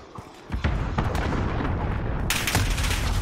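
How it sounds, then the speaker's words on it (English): Heavy explosion-like booms and gunfire from a cruise missile strike in the Modern Warfare video game, loud and dense, with a sharp rise in blast noise around two seconds in. "Allied cruise missile away."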